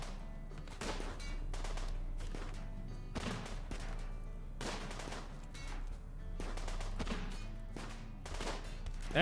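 Rapid bursts of machine pistol gunfire in the RimWorld video game, sharp repeated volleys crackling loudly over a steady low background hum throughout.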